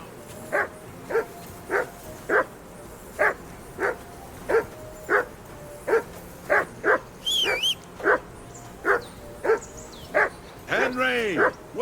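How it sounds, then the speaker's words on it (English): A dog barks in the medieval video game Kingdom Come Deliverance 2, a steady run of about fifteen evenly spaced loud barks, with a whistle and a whining yelp near the end. "Whistle at that mutt of yours to"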